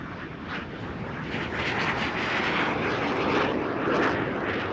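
A Soviet MiG jet, powered by a Soviet version of the Rolls-Royce Nene engine, passes at an airshow with a loud, rough broadband engine roar that swells steadily over several seconds, with no voices.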